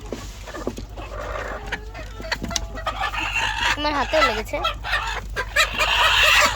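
Laying hens in a poultry shed cluck and call in a busy, overlapping chorus, with a rooster-like crow rising partway through; a person speaks briefly over the birds.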